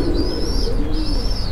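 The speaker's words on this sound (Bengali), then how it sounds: "আসলে ডেনিশ কবুতর" A Danish pigeon coos up close in a loud, continuous burst, with a slight chirping edge and no one speaking.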